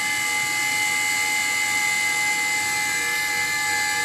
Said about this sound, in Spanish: Si nosotros trabajamos con una batidora de mano, se pueden dar cuenta que la batidora de mano tiene mucho más fuerza